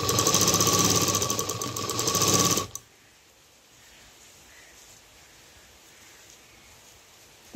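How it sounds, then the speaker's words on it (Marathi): A sewing machine stitches a belt for a dholki drum bag made from a small leftover scrap of fabric, running as a steady, buzzing whir for under three seconds before stopping abruptly, leaving near silence. "शिलाई मारून घ्यायची आहे"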